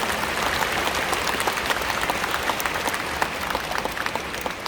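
Dense, loud crowd applause fills a Korean Christian federation's special prayer meeting in an Anyang indoor gymnasium, a steady wash of many hands clapping throughout without a break.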